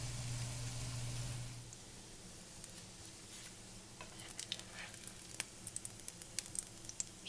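Homemade cured and smoked bacon strips frying in a pan at low heat, a quiet steady sizzle with faint scattered pops and crackles growing a little busier toward the end.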